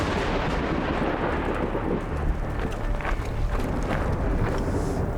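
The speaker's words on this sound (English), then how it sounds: "We're waiting for the storm to pass now because it's there are quite many thunders" Thunder rolls during a storm in the Alps, a dense, continuous rumble with deep booming swells, heavy and close, mixed with wind buffeting the microphone.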